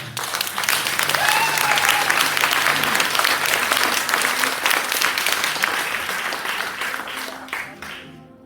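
A church congregation breaks into sustained applause and cheering during a Sunday morning service, loud and dense at first, then gradually thinning and fading out over about eight seconds.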